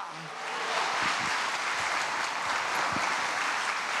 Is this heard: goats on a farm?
no